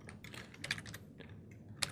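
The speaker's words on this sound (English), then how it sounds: "Now we need to type the destination, and that's going to be the entire path and where we want it to go." Rapid keystrokes on a computer keyboard as a file path is entered, a close, brisk run of uneven clicks with short pauses and a sharper final tap, no talking.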